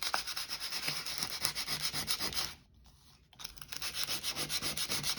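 Sandpaper scratching back and forth in a steady rhythm of rough, close strokes, with a brief pause midway before the rubbing resumes; no talking.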